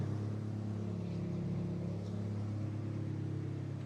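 A Mazda Miata with a two-resonator exhaust, louder than stock, holds a steady low idle, a continuous deep drone with harmonic hum alone and close.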